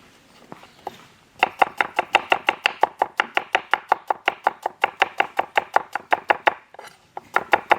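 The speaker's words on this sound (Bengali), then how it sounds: "ওইদিকে পেঁয়াজ কাটছে" Onions being chopped on a board for a village-style Kadaknath black chicken biryani: a long run of sharp, evenly paced knife strikes, close and crisp, after a brief quiet start and a short pause near the end.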